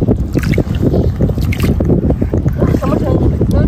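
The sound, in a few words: ship passing on the sea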